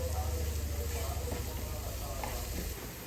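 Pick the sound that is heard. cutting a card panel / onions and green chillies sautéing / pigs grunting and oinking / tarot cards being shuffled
onions and green chillies sautéing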